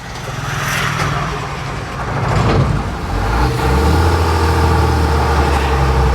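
An army truck's diesel engine runs steadily as it is driven on the road, a continuous loud low rumble that rises and shifts in pitch midway, with no voices over it.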